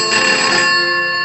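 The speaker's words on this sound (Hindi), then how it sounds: "लगता है उसी का फोन। देखो देखो।" A telephone rings loudly and steadily for a moment in an indoor scene from a Hindi TV serial, its bright electronic ring filling the clip with no talking over it.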